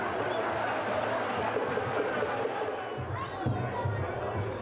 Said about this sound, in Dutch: Het publiek juicht al